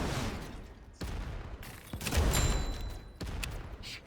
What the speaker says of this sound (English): Sound of the mortars just